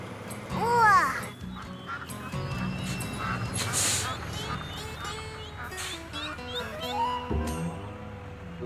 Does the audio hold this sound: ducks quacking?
yes